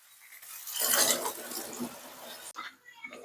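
Boiled chickpeas and mashed potato are stirred in a pan for a vegetarian chana masala, giving a wet, scraping swish that builds up and fades over a few seconds, with a couple of short knocks near the end.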